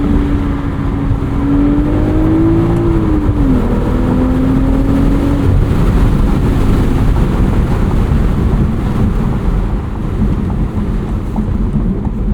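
A 2025 BMW Z4 M40i roadster with a six-speed manual, running with the top down, makes a steady engine drone under heavy wind and road noise, rising slightly near three seconds and then settling lower.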